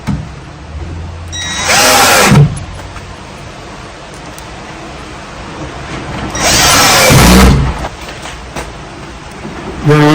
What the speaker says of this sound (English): So next step you do is you run your screws in.